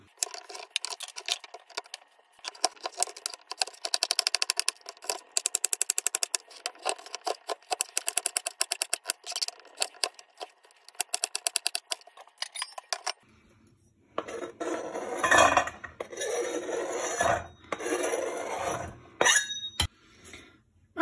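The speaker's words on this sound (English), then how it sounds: "So that's all my carrots cut up now, my potatoes cut up, my onions are cut up." A knife chops carrots, potatoes and onions for carrot and coriander soup on a board, with rapid, sharp, closely spaced cuts, then slower, heavier chops with clinks and handling noises later on.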